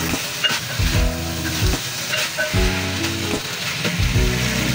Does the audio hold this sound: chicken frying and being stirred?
yes